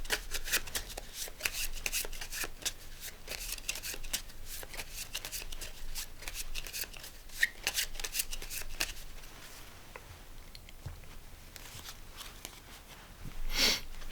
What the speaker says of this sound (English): Let's shuffle this a little bit.